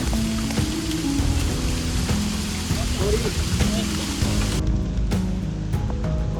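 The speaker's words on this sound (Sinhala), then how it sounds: "වැස්ස තාම වහිනවා" Rain keeps falling outdoors, a steady broadband patter under low rumbling background noise and a brief spoken word, continuing throughout at moderate loudness.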